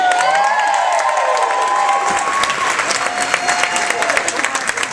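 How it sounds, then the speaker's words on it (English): Crowd applause and cheering at a drag show as a performer is welcomed to the stage, loud sustained clapping mixed with whoops and shouts, with a voice calling out over the noise. "Round of applause, welcome to the stage, Jude!"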